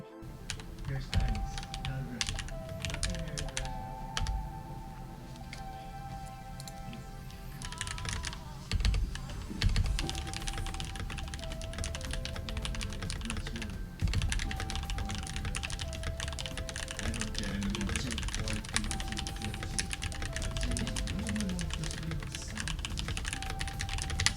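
Typing on a mechanical computer keyboard produces deep thocking keystrokes in quick, uneven bursts, close and clear, with soft background music playing beneath.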